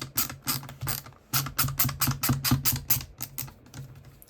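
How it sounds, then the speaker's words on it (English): A screwdriver undoes the last screw on a phone during a teardown, giving a run of quick close ratcheting clicks in steady bursts with a short pause near the start and no talk. "we have our final screw to undo"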